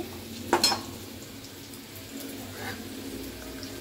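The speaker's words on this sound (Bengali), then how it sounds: "এই মাংসের আলুটাকে ভেজে নিচ্ছি" Potatoes for chicken kosha fry in a pan with a soft, steady sizzle, and a short clatter of a utensil rings out near the start.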